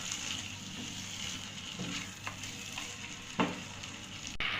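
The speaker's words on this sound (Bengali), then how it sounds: "আর সামান্য পরিমাণ পোস্ত দিয়ে ভালোভাবে মশলার সঙ্গে কষিয়ে নিচ্ছি।" Masala with a pinch of poppy seeds fries in a pan for chicken roast, a steady soft sizzle with occasional faint spatula scrapes and one louder knock near the end.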